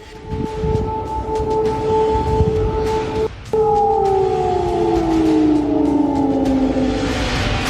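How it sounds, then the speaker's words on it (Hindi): A loud wailing air raid siren in Kyiv holds steady tones, cuts out briefly, then returns with pitch slowly sliding downward, sustained and close. "कीव के लोग एयर रेड सायरन की कानपूरी आवाज से पूरी रात जागकर काट रहे हैं"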